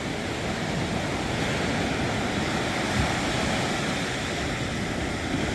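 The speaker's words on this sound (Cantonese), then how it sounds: "等過埋呢個浪先。" Ocean waves crash steadily onto a rocky, gravelly shore, a loud continuous roar of surf with one slightly stronger surge midway and no voices.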